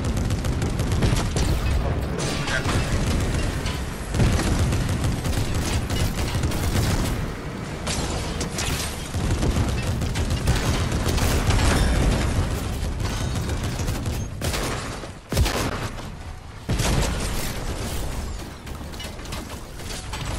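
Dense, continuous gunfire and booming blasts from Fortnite, a loud unbroken wall of shots and explosions with a few brief dips.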